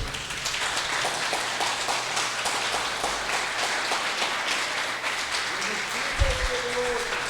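A congregation claps together at a church healing meeting, a loud, continuous patter of many hands, with a low hum and a brief low thump near the end.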